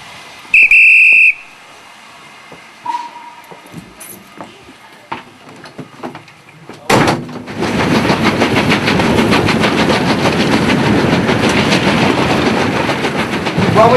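A heritage railway steam train sounds a loud, shrill whistle blast, then a train rumbles steadily past with continuous clattering and engine noise, close and loud, building after a quieter start.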